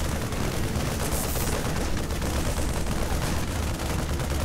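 Two Marines firing on a pylon in StarCraft 2: a dense, continuous rattle of rapid gunfire that stays loud and unbroken throughout, with no voices over it.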